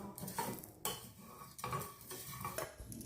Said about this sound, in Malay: Sangai biji ketumbar, jintan putih, jintan manis dan lada hitam hingga naik bau rempahnya.